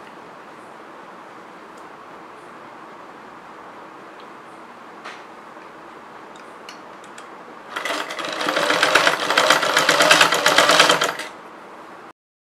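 A sewing machine runs in a steady rapid whir for a few seconds while stitching tape onto a chudidar, after a stretch of quiet handling with faint taps and rustles.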